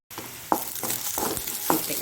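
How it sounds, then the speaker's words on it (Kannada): Ginger garlic paste frying in hot oil for Mangalore-style prawn uppumunchi, a steady sizzle broken by several sharp clanks of a spoon stirring against the pan. "ಸ್ವಲ್ಪ ಜಿಂಜರ್ ಗಾರ್ಲಿಕ್ 1 ಚಮಚದಷ್ಟು ಹಾಕ್ಕೊಂಡ್ರೆ ಬಹಳ ಉತ್ತಮ. ಒಳ್ಳೆ ಫ್ರೈ ಆಗಲಿ."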